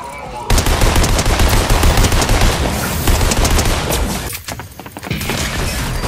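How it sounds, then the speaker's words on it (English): Loud, rapid automatic gunfire from a zero-recoil gun in Fortnite rattles almost continuously at close range, with booming impacts mixed in. "this gun's a beam. It has no recoil at all."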